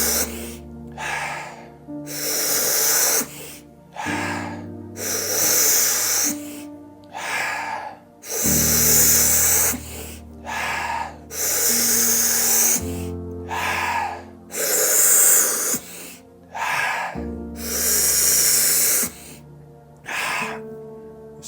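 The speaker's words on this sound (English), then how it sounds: "1 more minute of breathing before our first 2 minute breath hold attempt" Rapid, deep breathing exercise before a breath hold, with loud, forceful inhales and exhales close to the microphone, coming in quick rhythmic bursts with short pauses between breaths.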